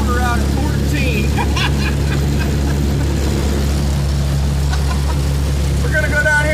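Pickup truck powered by a Harbor Freight Predator 212 6.5 hp small engine, droning loud and steady at governed speed as it drives along, a low constant hum with a voice talking over it.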